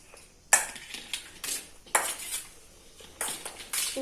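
Churmuri, a puffed rice snack, being tossed with salt in a bowl at home: a few quiet clinks of utensil against the bowl with soft rustling in between, near and fairly faint.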